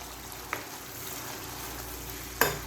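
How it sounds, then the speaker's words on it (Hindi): Spice masala cooking slowly over low heat in a pan, a soft continuous sizzle with a couple of sharp utensil clicks, quiet and without talk. "मैं इसकी स्लो कर देती हूँ ताकि मसाला अच्छे तरीके से कुक हो जाए।"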